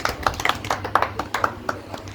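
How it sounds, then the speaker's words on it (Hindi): A small group clapping at a Bharatiya Kisan Union gathering, a few scattered hands producing irregular sharp claps close by over about two seconds, no one talking. "तालियां बजाओ भाई"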